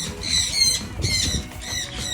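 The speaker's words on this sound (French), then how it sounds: "quand tu rentres, les oiseaux viennent pour manger tes graines" Birds at a bird park on Saint-Martin squawk loudly and close by while coming to eat seeds. Harsh, shrill calls repeat in bursts with short gaps over a low background bustle.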